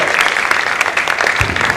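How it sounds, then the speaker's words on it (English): Applause at a charity luncheon: a crowd of guests claps steadily and fairly loudly, a continuous patter of hands filling the room. "Let's give him a round of applause for being with us here today."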